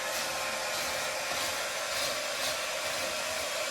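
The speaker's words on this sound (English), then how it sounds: "He's scraping the back wall with the spatula as he uses the hair dryer to warm it, melt it." A hair dryer blows steadily and loudly while melting built-up ice in an RV freezer, a continuous broadband whoosh with no talking throughout.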